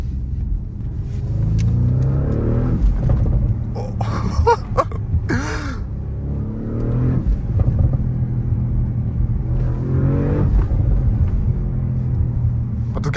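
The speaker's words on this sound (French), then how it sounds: "Ah, les petits pétarades à l'arrière." An Audi RS6 C7 estate in sport mode rumbles under way, its engine note rising and falling while several sharp exhaust pops and crackles burst out from the rear.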